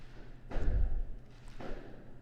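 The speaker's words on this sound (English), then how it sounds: "If you can hear that, they're doing fireworks." Two low, muffled booms from distant fireworks, spaced about a second apart, each a soft thud with a brief rumbling tail over quiet background.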